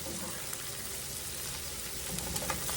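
Sliced onions cook with sugar in a pan with a soft, steady sizzle, faint and even throughout, with a few light clicks near the end and no voices.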